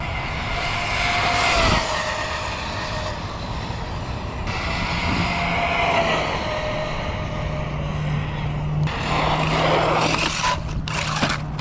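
An Arrma Tykon RC car runs on a track, its electric motor giving a steady, loud whine with broadband rumble and a few sharp spikes, like something racing past nearby.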